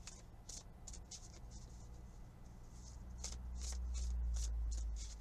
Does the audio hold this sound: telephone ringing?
no